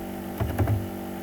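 A few quick keystrokes on a computer keyboard, close and moderately loud, with no talk over them.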